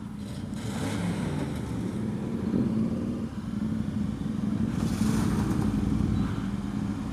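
A motorcycle trike passes on a downtown street with a steady, loud engine rumble. The drone holds for several seconds and swells slightly as the trike goes by.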